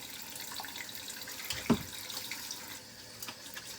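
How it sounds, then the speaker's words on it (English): Hands wash under a running kitchen tap with hot water, a steady close hiss of flowing water and splashing with one brief louder splash in the middle, no talk. "I washed my hands, but I want to wash them again before the cooking show."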